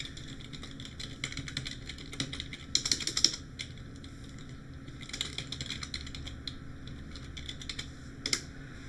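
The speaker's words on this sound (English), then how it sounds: "I'll type my email in for you." Someone types an email address on a computer keyboard: close, crisp key clicks in uneven bursts with short pauses and a few louder clustered strokes.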